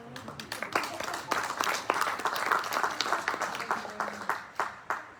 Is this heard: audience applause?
yes